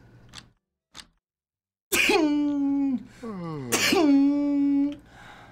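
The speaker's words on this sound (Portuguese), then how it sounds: "Vou espirrar." A person sneezes indoors in a room: two faint sniffs, then two loud drawn-out sneezes with a rising wheezy tail, close up.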